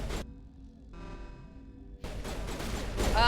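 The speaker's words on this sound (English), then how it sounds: "Why are they all shooting at me now?" Bursts of gunfire from the video game Mass Effect Legendary Edition: a sharp volley opens, a brief lull with a tonal hum follows, then rapid shots and impacts pile up loudly toward the end.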